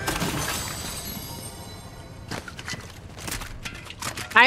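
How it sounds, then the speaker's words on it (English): Barrels being smashed in Fortnite, a burst of shattering and breaking crashes, several quick sharp hits coming after a quieter stretch of game sound, close and fairly loud. "I'm destroying barrels"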